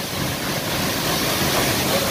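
Tiger Falls waterfall near Chakrata, a steady broadband rush of falling water, constant and fairly loud, with no talk over it.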